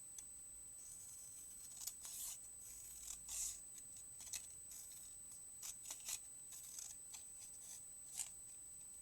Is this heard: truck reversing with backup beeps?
no